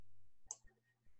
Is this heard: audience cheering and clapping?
no